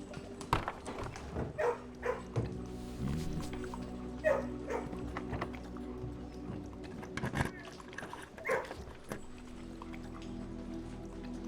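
Dogs bark in a kennel in the video game Blue Prince, with several short barks scattered among drips, clatter and soft background tones.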